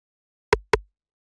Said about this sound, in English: So the next sound I have here is this rim shot